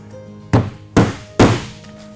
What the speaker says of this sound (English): let's use hammer and nail. Just all it is a basic hatchet and some nails.